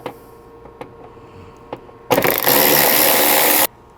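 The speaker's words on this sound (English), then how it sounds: "We're using a 10mm socket. We're going to go ahead and unscrew it." A 10mm socket works a screw free near the fender of a Toyota Hilux diesel, with a few sharp clicks followed by a loud, steady whirring burst of about a second and a half, then quiet.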